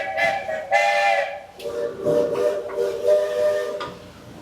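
A Magic Kingdom train sounds its steam whistle in several long, loud blasts, the first two close together, then a longer wavering toot with hissing steam in the open air.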